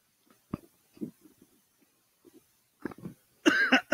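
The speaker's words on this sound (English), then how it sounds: "Oh, look, bad cough." Several harsh coughs and throat-clearing bursts on a TV shopping broadcast, short isolated bursts spaced over a few seconds, ending in a louder, rougher cough cluster.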